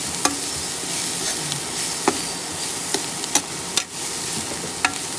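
Turmeric and chili powder frying in a pan on a home stove, a steady sizzle running throughout with sharp scrapes and clinks of a stirring spoon every second or so, close and moderately loud, no talking.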